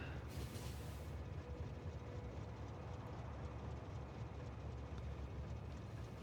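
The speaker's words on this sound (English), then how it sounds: "let's move our train" A train in the video game Factorio rolls along as a steady low rumble, quiet and continuous throughout, with no voices.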